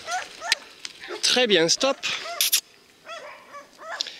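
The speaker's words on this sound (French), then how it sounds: "on va même s'arrêter devant les chiens qui gueulent" Dogs bark and yip repeatedly on a countryside walk, overlapping with a person talking to a dog; the barks are loud and choppy, mixed in with the speech.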